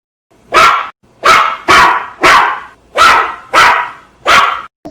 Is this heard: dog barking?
yes